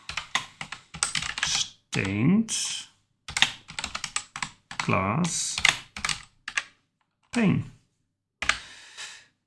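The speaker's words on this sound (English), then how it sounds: "Typing is difficult." Computer keyboard typing while building in Minecraft, bursts of quick clicking keystrokes alternating with someone talking close to the microphone.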